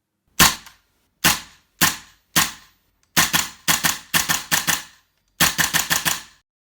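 A GHK M4 gas blowback airsoft rifle fires a series of sharp cracking shots, four single shots followed by quick bursts of three to five rounds, close and loud against silence.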